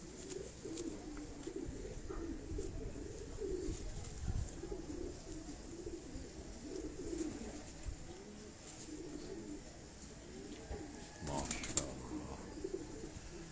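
A pigeon coos softly and repeatedly in a quiet, close setting, with low, rounded calls recurring throughout and a brief rustle near the end.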